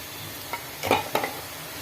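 Fish curry masala with raw onion paste is sautéed in a pan, a soft steady sizzle broken by a few quick stirring scrapes near the middle.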